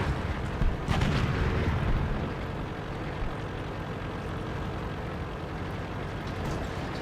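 A tank cannon fires a shot into the back of an enemy turret in World of Tanks, played from an M103: a loud boom near the one-second mark, followed by a dull, rumbling tail and steady engine drone.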